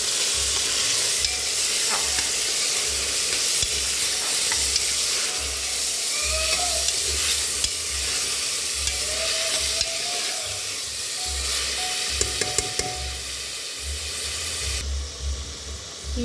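Tomato pieces frying in a pan get stirred for tomato rice, giving a continuous close sizzle and hiss with low scraping strokes of the spoon running throughout, no voices.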